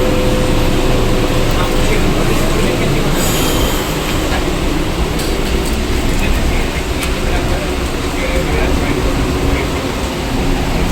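A Mumbai local train pulls in and keeps running: a loud, continuous, heavy rumble with metallic wheel squeals and rattling carriages filling the whole stretch.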